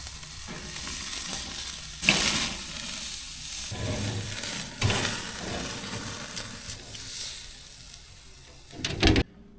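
Steaks sizzle and fry over direct heat on a grill, a steady hiss running throughout with a few louder crackling bursts, heard close and alone with no talking.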